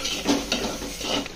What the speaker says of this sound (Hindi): और इसको हम अच्छे से मिक्स करेंगे